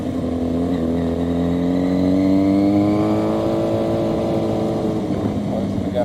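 Car pulling out and turning left into a street, engine rising then easing as it accelerates through the turn, steady and close, with a voice speaking over it.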